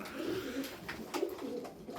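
Soft cooing from Turkish show pigeons, a few low rolling coos repeating close by in a quiet space.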